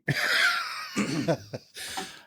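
A close, raspy throat clearing followed by a couple of short, rough hacks, loud and alone.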